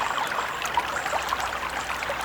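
Rushing water from a waterfall, a steady broadband hiss of flowing, splashing water with small trickling bursts, continuous and fairly close with no voices.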